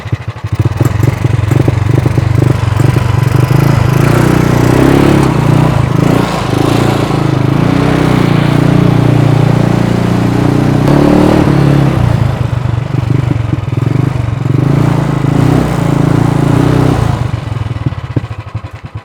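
A home-built mini bike with a side shaft motor and gears runs loud and close, its engine chugging steadily for nearly twenty seconds with a rattling, clattering edge and slight dips in pace.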